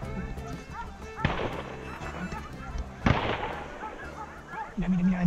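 Gunshots during a wild boar hunt in Extremadura, Spain: two sharp distant reports a couple of seconds apart, with background rustle and a voice near the end.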